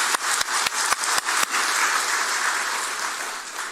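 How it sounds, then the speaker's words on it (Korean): A church congregation at a Friday worship service claps: several sharp separate claps at first, then swelling into sustained loud applause that fills the room. "일단 박수 한번 주세요."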